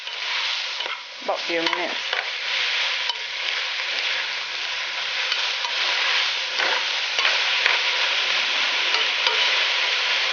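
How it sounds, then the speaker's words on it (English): Vegetables sautéing with other ingredients in a pan, giving a steady close sizzle and frying hiss, with stirring scrapes early on and a brief spoken remark. "saute them with the rest of the ingredients that's in there already"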